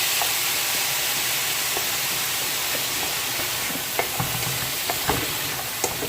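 Fish stuffing cooking in a pan, a steady close sizzle and hiss with occasional soft taps and stirring clicks, no voices.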